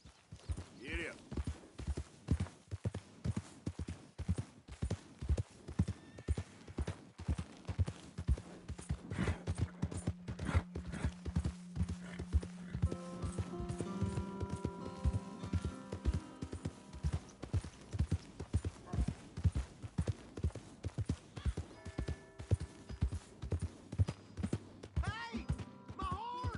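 Horse hooves clip-clopping in the video game Red Dead Redemption II, a steady, rhythmic trot of sharp hoof strikes running the whole way, with voices, a brief whinny and soft music beneath.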